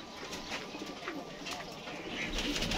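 Pigeons coo softly on a rooftop pigeon loft, low continuous murmuring calls mixed with faint chirps, fairly quiet throughout.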